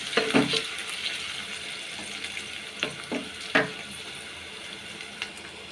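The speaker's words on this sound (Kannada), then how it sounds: "ಫ್ರೈ ಮಾಡ್ಕೊಳ್ಳೋಣ." Onion, green chili and curry leaves frying in hot oil with cumin and mustard seeds, a soft sizzle broken by several sharp stirring scrapes against the pan, close and without voices.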